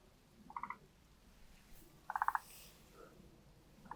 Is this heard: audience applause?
no